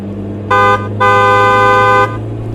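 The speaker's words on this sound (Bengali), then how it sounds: "তারপর প্যাক প্যাক করে হর্ন বাজাতেই" A car horn sounds as an effect in a comic audio story: one short toot, then a brief gap and a longer honk, loud and clear over a low background hum.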